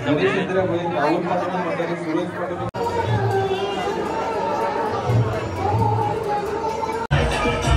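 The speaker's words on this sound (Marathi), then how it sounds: "गर्दी पण खूप आहे" Dense crowd babble at the Mahabeej festival in Vadavali Koliwada, many voices overlapping at close to moderate distance in a steady hubbub, with a brief cut partway through.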